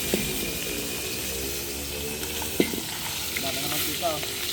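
Pork fat for a large chicharon frying in oil, a steady close sizzle and crackle with occasional sharper pops and bubbling throughout.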